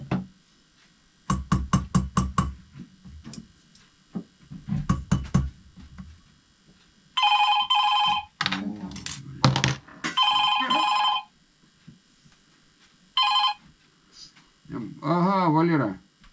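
A telephone rings in bursts of repeated electronic trills in an antique restoration workshop, loud and close, alternating with a voice and some knocking sounds.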